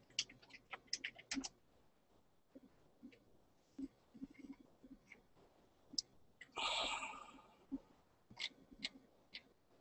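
Computer keyboard typing during a Roblox livestream: faint, scattered clicks and short bursts at an irregular rhythm, with a brief louder rush of noise partway through and no clear talk.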